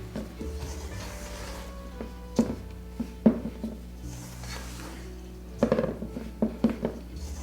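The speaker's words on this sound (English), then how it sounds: "I'm just stirring and pushing and then just rotating the bowl" Spoon working softened butter into flour in a mixing bowl for shortbread dough, giving soft scraping rubs and a few sharper knocks against the bowl, close and fairly quiet with no talking.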